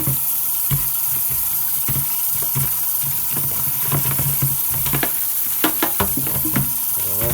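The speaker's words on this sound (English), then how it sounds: "So I'm just gonna rinse it off real good first" Irish sea moss gets rinsed in water, a steady wash of splashing and rushing water near at hand with irregular small sloshes and knocks throughout.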